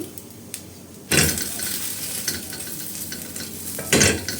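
Oorappadai, a traditional Thanjavur rice-flour snack with drumstick leaves, fries in a pan over medium flame: a quiet start, then a sudden loud sizzle as it is flipped, a steady hiss, and another burst of sizzling near the end.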